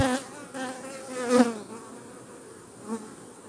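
Honeybees at an opened hive buzz in a dense, steady drone close by, with a few louder swells as agitated bees pass near.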